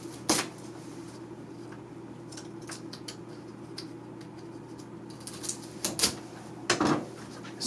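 A kitchen knife chops shiitake mushrooms in half on a cutting board for so-men soup, a few sharp, sparse taps and knocks up close over a quiet, humming room.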